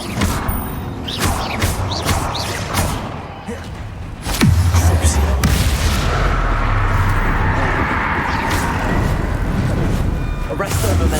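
Spell-casting battle in Hogwarts Legacy with a Confringo fire spell bursting into a deep, rumbling explosion, surrounded by crashes, impacts and repeated shouted incantations, loud throughout.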